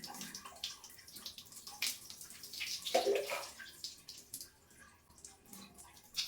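Water is poured over hair during a wash, making close, quiet splashes and trickles that rise and fall over several seconds with occasional drips.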